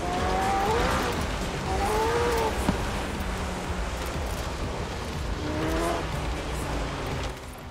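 A car engine revs and shifts through gears while driving in the racing game Forza Horizon 4, rising and falling engine tones with a brief tire noise, steady and loud with no talking.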